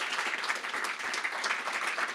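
Audience applause at an in-person book event, a steady dense wash of clapping from many hands filling the room, fairly loud and continuous, with no talk over it.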